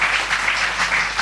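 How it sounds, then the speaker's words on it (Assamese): An audience applauds a woman announced as a contest winner at an indoor show, steady, fairly loud clapping from a group that continues evenly through the whole moment. "এবাৰ হাত চাপৰি সহযোগিতা কৰিব।"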